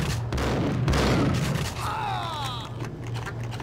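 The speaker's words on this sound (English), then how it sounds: "Every time I hear that grenade bounce off something, it becomes a very nervous moment." A grenade in the video game Max Payne 2 lands, bounces, then bursts in a loud broadband blast, followed by a ringing, whistling tail over steady low background rumble.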